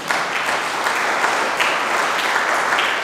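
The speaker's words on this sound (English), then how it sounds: "Can we give a clap offering to the Lord?" A church congregation claps during a talk on God's love, steady, even applause from a crowd of many hands, sustained and fairly loud.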